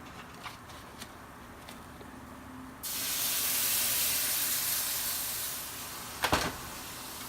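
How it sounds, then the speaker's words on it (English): Hash browns fry in hot oil in a pan, a steady broad sizzle that swells in suddenly partway through and holds loud, with a couple of sharp pops near the end. "You could fry your hash browns in it, really, your bacon drippings, but I prefer to use oil"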